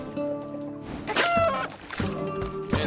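Chicken clucking in the video game Mask of Eternity, a few short clucks and squawks close by over steady game ambience and music.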